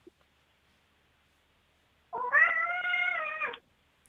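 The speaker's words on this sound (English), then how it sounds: "I have 2 cats and 4 kittens in this house, and they are crying for my attention" A single drawn-out meow, loud and close, lasting about a second and a half in an otherwise quiet room.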